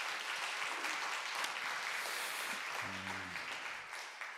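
A church congregation claps together in sustained, dense applause after a call to give glory to God, steady and loud throughout, with a brief low voiced tone rising near the end.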